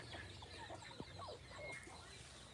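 A desi hen, a native Bangladeshi chicken with her chicks on a farm, gives soft, faint clucks against a steady background hiss.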